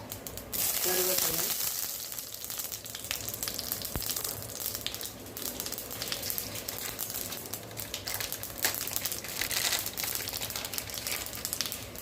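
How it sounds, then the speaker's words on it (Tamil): Mustard and fennel seeds temper in hot oil for a kuzhambu, giving a steady close sizzle with scattered crackles and pops throughout while a voice talks over it. "இப்போ நம்ம தாளிச்சிடலாங்க எண்ணெய் விட்டுருக்கேன் இதில் பார்த்தீங்கன்னா கடுகு கொஞ்சமாக சோம்பு"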